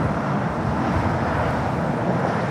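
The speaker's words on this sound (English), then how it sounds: "United Dreamliner is the flight that came in from Hong Kong. Flight 153, 787-9 Dreamliner, making its way over the air to Terminal 7." A United Boeing 787-9 Dreamliner taxiing at LAX gives a steady broadband engine roar, loud and unbroken, heard from nearby without voices.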